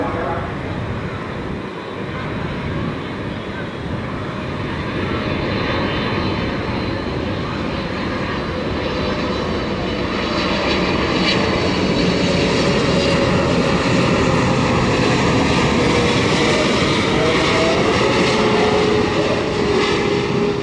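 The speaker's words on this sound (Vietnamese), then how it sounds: "Bây giờ chiếc máy bay hạ cánh xuống đường băng 25 phải." A Boeing 737 cargo plane lands on runway 25R at Tan Son Nhat airport, its steady loud jet engine roar rising and swelling as it nears, with someone talking over it.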